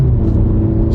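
A car engine roars loudly and steadily, a close, sustained rumble of hard acceleration.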